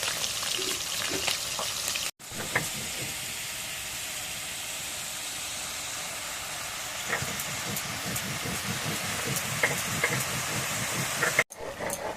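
Fish sizzles in hot oil in a home kitchen pan, a steady broad hiss with crackly spits and pops that runs almost without a break, stopping abruptly twice, with no talking.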